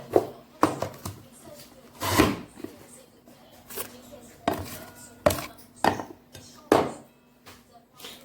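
A potato is pushed through a fry cutter in a few sharp presses, each a crisp chopping thud, with quieter kitchen clatter between them and a voice talking now and then.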